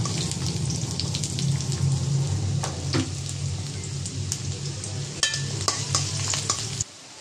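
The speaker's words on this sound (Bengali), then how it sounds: "পেঁয়াজটা হালকা ভেজে নিয়েছি।" Chopped onions frying in oil in a wok: a close, steady sizzle with scraping stirring strokes and occasional clinks, cutting off abruptly at the end.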